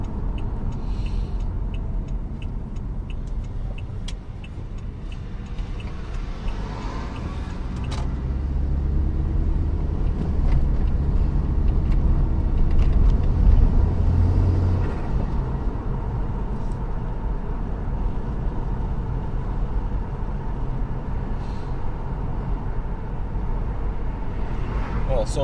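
A tuned Saab 9-5 LPT car drives along with a steady low engine and road rumble that swells slightly mid-way, heard from inside the cabin, with no one speaking over it.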